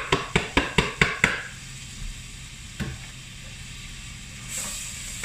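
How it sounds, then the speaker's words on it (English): Onion going into hot butter and oil for chicken risotto clatters off a utensil in a quick series of sharp taps, then a steady soft sizzle carries on alone. "We're going to put all that onion in."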